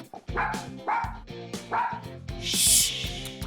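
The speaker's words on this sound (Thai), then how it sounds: "เสียงหมาเห่าเหรอ" Dog barking indoors, several loud rhythmic barks close by over a bouncy background music track, with a brighter burst near the end.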